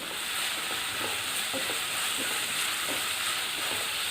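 Onions with green chillies sautéing in a pan for Kerala-style chicken mappas, a steady close sizzle with light stirring scrapes running throughout, no voices.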